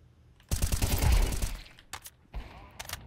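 Shotgun fire in a first-person shooter, a loud burst of rapid shots lasting about a second, then two shorter blasts against near silence.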